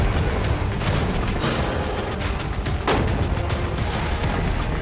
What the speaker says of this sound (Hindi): टैंक्स पैसों पर निशाना लगाकर 20 राउंड फायर करने वाले हैं